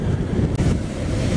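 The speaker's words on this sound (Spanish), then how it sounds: "mirá cómo está el mar, maremoto parece" Rough sea waves crash and surge at the shore during a corvina fishing outing, a dense, loud, continuous roar mixed with heavy wind buffeting the microphone.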